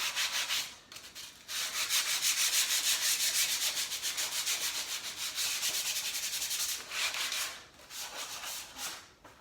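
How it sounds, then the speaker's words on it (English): A wooden ramp is scuffed by hand with 60 grit sandpaper, producing rapid rhythmic rasping strokes, close and fairly loud, with brief pauses between bursts and no talk. "it's just to give the paint something to bite into is why we're scuffing it. We're just using some 60 grit here."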